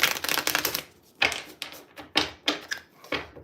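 Crisp riffling bursts of cards being shuffled, a dense flurry at first followed by several shorter separate riffles, close and fairly loud with no talking.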